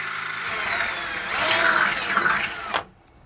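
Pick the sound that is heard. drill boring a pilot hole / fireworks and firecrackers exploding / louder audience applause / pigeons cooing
drill boring a pilot hole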